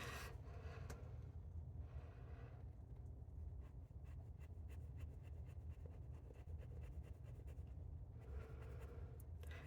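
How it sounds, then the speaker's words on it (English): Fountain pen scratching across paper, soft close-up strokes with faint rhythmic rasps and pauses, quiet and alone. "I'm going to try and zoom in a little bit more here so you can see it up close as I write with it."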